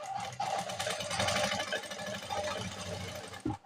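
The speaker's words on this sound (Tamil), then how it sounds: "பார்த்துட்டு இப்போ பார்த்தீங்க அப்படின்னா நம்ம தையல் போட ஆரம்பிச்சிடலாம்" Sewing machine stitching piping cord onto cloth, a steady rapid mechanical chatter running almost continuously and fairly loud, ending with a brief thump.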